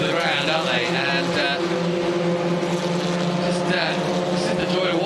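Honda S2000 race cars on the Mid-Ohio circuit give a steady, continuous engine roar that keeps the same loudness throughout, with shifting tones as the cars pass and commentators talking over it.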